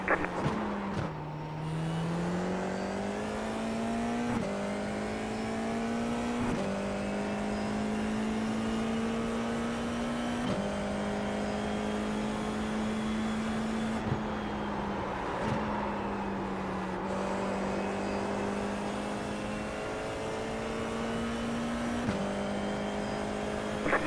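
Formula race car engine in the iRacing sim, a steady high engine whine rising through gears with sharp shift breaks every few seconds, heard from the cockpit at moderate level without talk.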